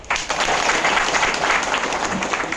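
Audience applause at a Shramjeevi Sanghatana executive meeting in Bhiwandi, a steady burst of many hands clapping that starts abruptly and carries on loudly and evenly to the end.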